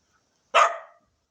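A dog lets out one sharp, close bark that trails off quickly, followed by quiet.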